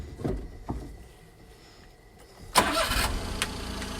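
Daihatsu 4x4 Japanese mini dump truck engine cranking with a couple of brief clicks, then catching and settling into a close, steady idle.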